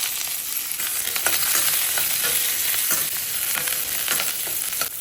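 Cinnamon, dry red chillies, curry leaves, ginger, garlic and onion fry in oil, a loud, close, continuous sizzle with occasional stirring scrapes.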